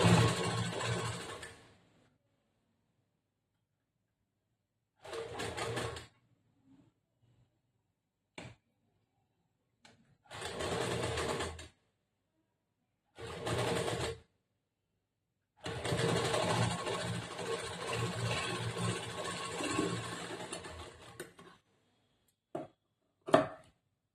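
Sewing machine stitching a princess-cut blouse, running in several bursts of varying length, from brief spurts to a long continuous run near the end, separated by silent pauses, with a few sharp clicks between.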